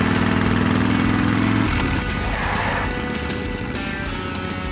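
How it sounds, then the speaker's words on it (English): An engine, likely a motorcycle, runs steadily and loud throughout, with a heavy low idle for the first second or so before the tone shifts to a busier, mid-pitched running sound. "Do you hear a motorcycle?"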